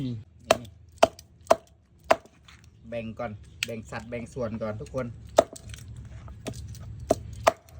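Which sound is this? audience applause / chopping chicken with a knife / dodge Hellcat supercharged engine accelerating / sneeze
chopping chicken with a knife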